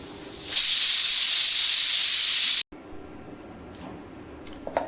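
Steam hisses loudly and steadily from a pressure cooker on a stove, cooking jackfruit seed and mango curry in a Kerala kitchen, a continuous bright rush lasting about two seconds before cutting off abruptly to quieter kitchen background with faint clicks.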